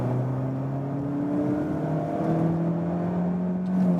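A Mazda CX-30 engine drones and climbs steadily in pitch as it accelerates in second gear, a smooth rising whine holding from start to finish.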